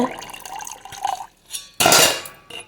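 Excess water being poured off soaked sago in a kitchen vessel, giving a loud splashing gush after some lighter clinks and trickles from the pot.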